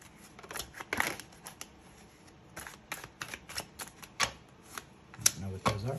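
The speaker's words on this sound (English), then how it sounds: "We're going to grab a few cards out of this." Tarot cards are shuffled, slid and drawn from a deck at close range, irregular crisp flicks and taps with short pauses between, while a person talks quietly.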